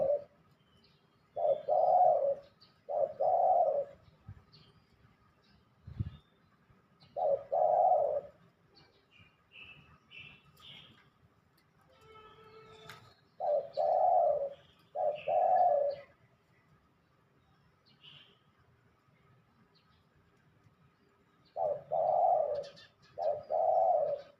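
A zebra dove repeats soft, rhythmic cooing phrases in clustered bursts separated by quiet pauses, close and clear against a calm outdoor background.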